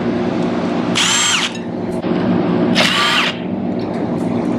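Two sustained bursts from a power tool loosening the front wheel bolts on a 1992 Honda XR250L motorcycle, each whirring for about half a second with a rising and falling whine, loud and close over steady workshop background noise.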